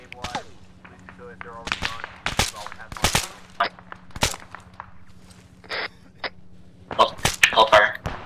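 Sharp gunshots crack in bursts during an ArmA 3 firefight, single shots and short volleys spaced irregularly, some close and loud, others fainter, with a steady low hum and spoken radio-style voices between shots.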